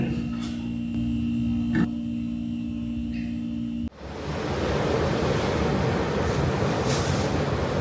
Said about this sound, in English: somehow the waves are better than yesterday